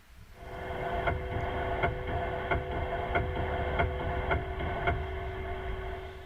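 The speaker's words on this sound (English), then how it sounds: "That's video and sound from inside Starliner during its return to Earth 2 years ago" Cabin interior of a Boeing Starliner capsule during its return to Earth, a steady droning hum with tonal whine and faint regular throbbing pulses, continuous and moderately loud with no voices.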